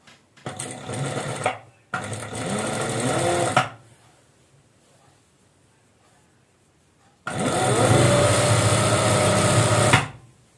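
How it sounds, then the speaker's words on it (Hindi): An electric sewing machine stitching a designer maxi dress runs in two short bursts, goes quiet for a few seconds, then runs again in one longer loud whirring stretch before stopping. "तो चलते हैं और सिलाई लगाना स्टार्ट"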